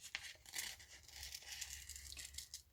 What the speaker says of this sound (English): And then we will cut this out,